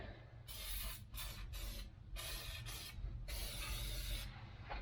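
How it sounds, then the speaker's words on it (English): Several hissing bursts of anti-seize lubricant sprayed from an aerosol can onto a truck wheel bearing, close by, of varying length and separated by short pauses over a steady low background hum. "this comes right out of a spray"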